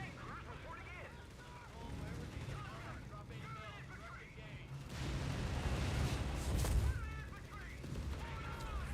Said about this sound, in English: that sounds like a tank